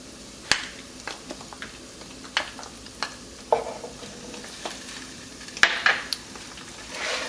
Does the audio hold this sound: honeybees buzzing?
no